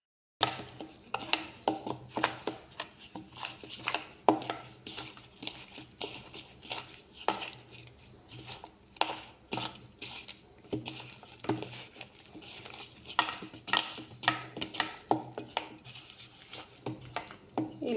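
Chicken leg pieces being mixed by hand with turmeric, coriander powder, chilli powder and chicken masala in a bowl, giving soft irregular patters and small clinks that go on steadily without speech.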